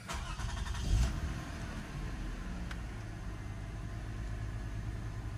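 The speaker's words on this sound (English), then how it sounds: "And now we're gonna start the car." A Toyota Camry engine cranks and catches with a brief louder burst, then settles into a low, steady idle, heard fairly quietly with no talking.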